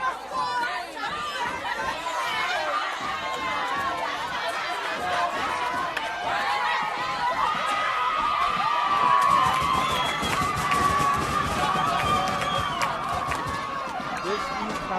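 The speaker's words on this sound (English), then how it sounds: "this East High crowd is going bananas." An East High football crowd at a city athletic conference championship game in Rochester, a dense roar of many voices chattering and cheering that swells in the second half, steady and continuous.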